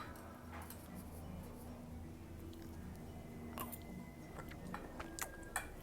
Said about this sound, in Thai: เนื้อนุ่มมากครับ เคี้ยว ง่ายนุ่มมาก